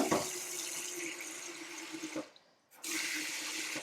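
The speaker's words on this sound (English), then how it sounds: "go over to your sink and cover your carrots with a little bit of water" A kitchen sink tap pours water into a pan of carrots, a steady close splashing stream that cuts off briefly near the end, then resumes at full flow.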